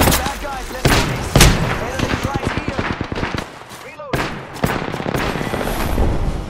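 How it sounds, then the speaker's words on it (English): Gunfire from an Apex Legends match in Skull Town: rapid bursts and sharp single shots come in close succession, mixed with someone talking over the shooting. "I am taking some fire"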